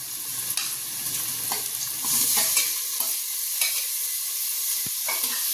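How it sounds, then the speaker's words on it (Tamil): Onion, tomato and a green chilli frying in a pan for mutton biryani sizzle steadily, broken by repeated scraping stirs. Close and continuous throughout, with nobody talking. "நம்ம அதோட தக்காளி போட போகிறோம்"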